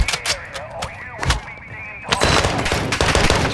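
Rapid close gunfire in the DMZ game, a run of sharp cracking shots followed by a sustained loud burst, with brief voices mixed in.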